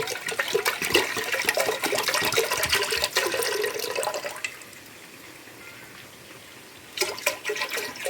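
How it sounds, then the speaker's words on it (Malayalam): Full-fat milk, about 1.5 litres, is poured into a pot for payasam. The steady liquid splashing runs for several seconds, then quietens briefly before another short burst of pouring, close up with no speech. "നമുക്ക് ഇതിൽ പാലൊക്കെ ഒഴിച്ചോളാം."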